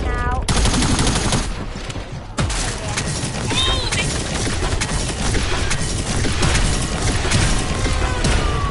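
An ultra weapon in a PS4 video game fires loud, sustained automatic bursts, a relentless rattle of close gunfire with heavy booming impacts running nearly the whole time.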